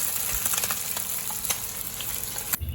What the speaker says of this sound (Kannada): ಮೀನು ಕಟ್ ಮಾಡಿ ಫ್ರೈ ಹಾಕಲಿಕ್ಕೆ ಇಟ್ಟಾಗಿದೆ